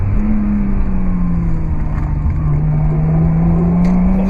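An H6-swapped Subaru Legacy on the road, with worn, poor tires: a loud, steady engine drone holding one low hum throughout, close by and uninterrupted, with no voices over it.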